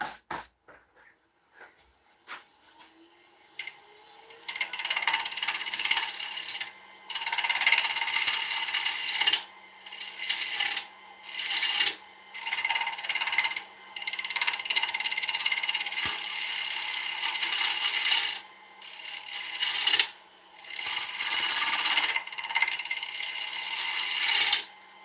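A woodturning tool cuts into a spinning oak bowl on a lathe to clear a tool mark, giving repeated loud rasping bursts separated by short pauses.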